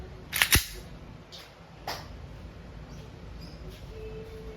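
A WE airsoft Glock 17 gas pistol fires two sharp, snappy cracks in quick succession, then a fainter click or shot a moment later, close in an otherwise quiet space.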